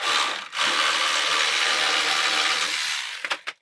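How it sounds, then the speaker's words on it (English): A ratchet spins a rear shock absorber bolt out on a 2003-2011 Honda Element, a steady, fairly loud whirring clatter for about three seconds, then a few separate clicks as it slows and stops. "get your ratchet,"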